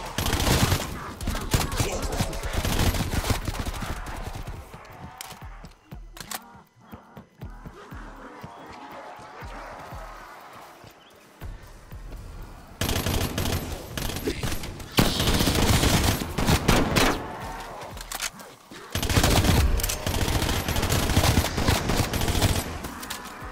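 Video game weapons fire in dense automatic bursts and volleys, loud and continuous through most of the stretch, easing off briefly in the middle before heavy firing resumes.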